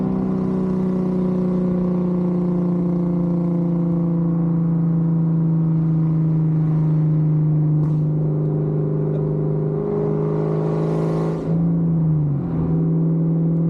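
Close, steady drone of a 1999 Kenne Bell Cobra car engine, holding a low, even tone before a brief surge and a dip in pitch near the end, with no voices.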